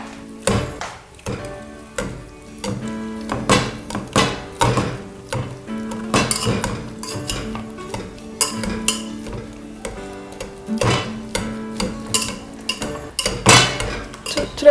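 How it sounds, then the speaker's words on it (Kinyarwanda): Boiled potatoes being mashed with milk and butter in a pot, giving repeated close clanks and scraping knocks of a masher against the metal in an uneven rhythm, with no talking. "Turamenamo ya mata na bureba byacu, turangiza dutangire kubinomba."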